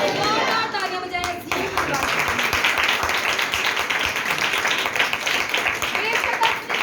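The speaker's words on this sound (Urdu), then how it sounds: "زوردار تالیاں بجائیں." A church congregation claps loudly after a call from the preacher: a fast, dense clatter of many hands starts right after a brief voice and keeps going at full strength, with some voices mixed in.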